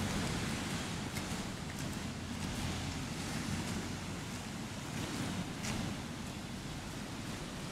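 Mediterranean Sea waves wash onto a Spanish beach as a continuous broadband roar, with a soft steady surge, some wind buffeting the microphone, and no voices.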